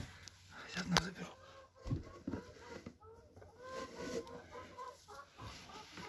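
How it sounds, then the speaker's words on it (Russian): Hens clucking softly in a henhouse while eggs are being gathered, low scattered clucks with some rustling and handling noise close by, and people talking over them. "Ну, здесь курочка сидит."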